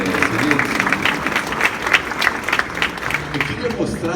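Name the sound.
applause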